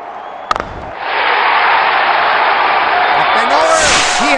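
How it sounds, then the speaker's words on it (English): Loud, dense roar of a cricket stadium crowd cheering and shouting during a Major League Cricket 2023 match, rising sharply after a brief pop and holding steady as a broad wall of noise, with faint whistles near the end. "Crowd senses a flurry of boundary here. They are making some serious noise."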